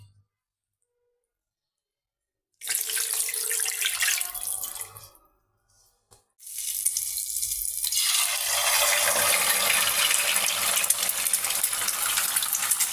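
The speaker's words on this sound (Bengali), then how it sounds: "এবার পানি দিয়ে দেবো" Water gushes and splashes steadily into a metal cooking pot of kachki fish with bitter gourd after a silent start, pausing briefly before pouring continues, close by.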